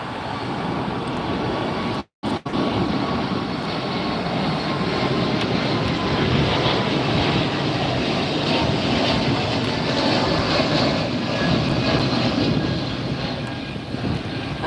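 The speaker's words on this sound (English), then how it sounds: "So here we go with a JetBlue taking off." A JetBlue airliner taking off at Los Angeles International Airport, a steady broad roar of jet engines heard from a distance, with a brief dropout partway through.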